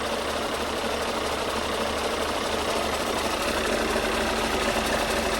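A rebuilt Scania truck engine runs at a steady idle with a continuous low, even rumble and faint mechanical ticking, close by and without talk.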